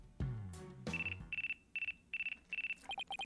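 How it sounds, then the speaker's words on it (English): A phone ringtone in the Ace Attorney Dual Destinies video game plays as a series of short, evenly spaced electronic trills after a couple of sound-effect thumps, clear and close with no talk. "Oh, is that your phone?"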